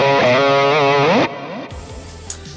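Heavily distorted electric guitar through an Axe-Fx preset with emphasized reverb and delay, a sustained lead phrase with bending notes ending abruptly, followed by quieter trailing tones and a pick tap.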